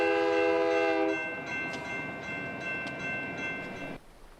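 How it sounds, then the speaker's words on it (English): At a railway crossing, a train's horn blares loud and close for about a second, then the rumble of passing wagons rolls steadily by before cutting off abruptly. "Look for the train."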